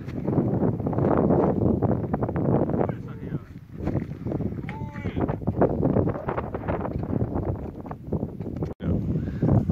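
Wind blowing at a lakeside campsite with a fire pit, somewhere along a road trip from Santa Fe through Las Vegas to Colorado. It rumbles and buffets the microphone in uneven gusts, under intermittent talk nearby.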